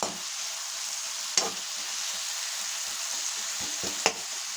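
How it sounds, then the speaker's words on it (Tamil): Tomatoes frying in a pan, a steady close hiss of sizzling oil with a couple of sharp utensil clicks and soft stirring scrapes, no talking. "தக்காளி பச்சி கரெக்டாக ஃப்ரை பண்ணுறதுக்காக நான் ரெடி பண்ணிக்கிறேன்"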